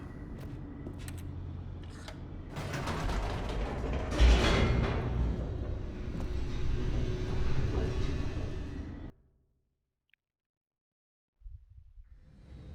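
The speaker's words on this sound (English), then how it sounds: "The elevator raced downward, plummeting towards an unknown fate." An elevator in The Stanley Parable descends with a loud mechanical rumble and grinding rattle that swells and then cuts off sharply, leaving silence before a faint low sound comes back.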